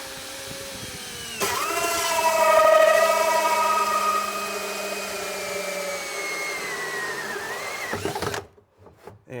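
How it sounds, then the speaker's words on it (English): A cordless drill with a 3-inch hole saw cuts through a panel on a Polaris General build, giving a long steady whining grind that stays loud throughout, then stops abruptly. "So got a 3-inch hole saw here."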